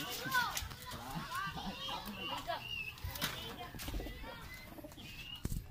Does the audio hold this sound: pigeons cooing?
yes